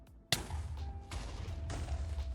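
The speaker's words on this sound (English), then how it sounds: "That's a firework." Minecraft firework launching: a sharp pop followed by a rushing, fizzing burst, then two more swelling whooshes, moderately loud over a low game background hum.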